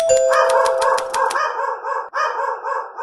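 A small dog yaps in a quick run of sharp barks, close and loud, after which a higher whining, squeaky tone continues alone.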